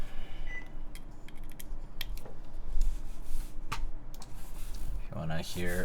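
Typing on a mechanical keyboard fitted with GMK keycaps, a Parabolica60 build: scattered quick keystroke clicks over background hum, with a voice talking near the end.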